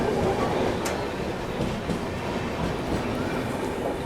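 Superfast express trains crossing at Dhola Junction railway station, a steady loud rumble of rolling coaches with faint rhythmic wheel clatter throughout, no voices.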